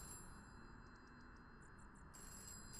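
In a video game, a telephone rings as a string of short, high electronic beeps in two quick groups. The beeps are faint and sit over a steady background hiss.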